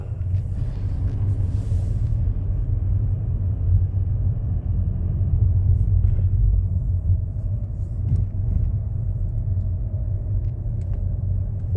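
A car's engine runs steadily during a first-day driving training session in Greater Noida, a continuous low rumble that stays loud and even throughout with no clear pauses.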